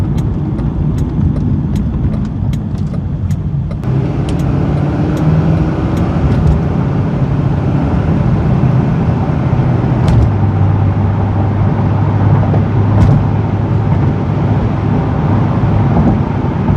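A 2005 Chevrolet Corvette drives along a road, heard from inside as a steady engine drone and road roar that shifts in pitch as it changes speed.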